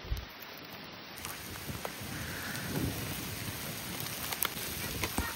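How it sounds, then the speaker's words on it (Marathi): Heavy rain pours down steadily in an outdoor setting during a crab hunt, a dense continuous hiss that stays loud and even throughout, with no voices. "भरपूर पाऊस येतोय"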